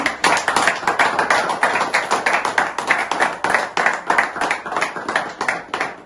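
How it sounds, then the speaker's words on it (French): Audience clapping for Moïse Katumbi at a diaspora election gathering, a strongly rhythmic, unison beat of hand claps, loud and close, running evenly throughout. "j'aimerais que nous puissions d'abord applaudir pour cet homme de Moïse Katumbi"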